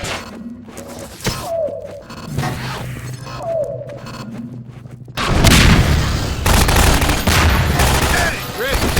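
Turret gunfire in Half-Life 2: Episode Two, with sporadic shots and game sounds at first, then a sudden sustained burst of loud rapid automatic fire filling the second half.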